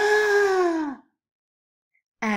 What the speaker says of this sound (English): this is the sound that we make to when we are surprised or shocked